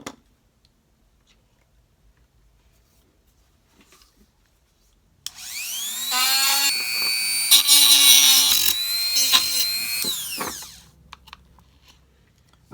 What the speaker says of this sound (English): So we're just going to have to sand this down a bit and get it ready for the battery pack to be inserted